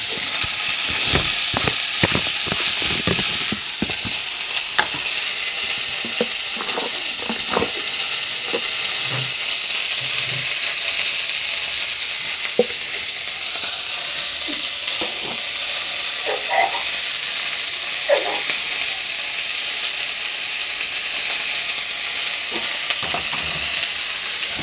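Salt, turmeric, green chilli and ginger paste tossed into hot oil and stirred, producing a loud continuous sizzle with repeated scraping and clinking of the spatula against the pan, close up with no voices.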